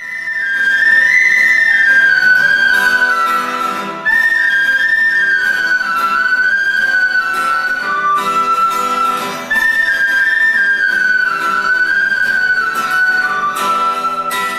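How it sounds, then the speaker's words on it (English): A penny whistle plays a lilting melody of sustained high notes and ornamented runs, loud and clear, continuing for several phrases with short breaths between them. "every time I was sad, penny whistle would help me."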